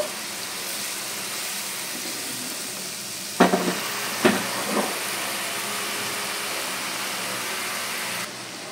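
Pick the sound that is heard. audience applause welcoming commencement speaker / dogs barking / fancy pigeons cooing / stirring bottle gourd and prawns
stirring bottle gourd and prawns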